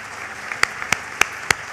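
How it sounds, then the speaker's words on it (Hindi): An audience at a DXN company profile talk gives sparse applause: four sharp, evenly spaced hand claps over a quiet room background. "जोरदार ताली होनी चाहिए मैडम के लिए इतने अच्छे इन्फॉर्मेशन के लिए"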